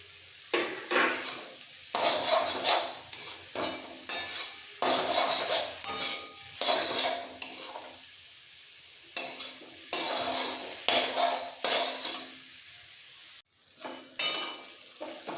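Maggi noodles with capsicum are stir-fried in a pan, a sizzling hiss broken by repeated rhythmic scraping and clanking of a spatula against the metal, close and fairly loud, in bursts with short pauses.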